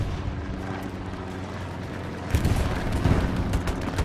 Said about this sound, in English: Well, we're artillerying right now.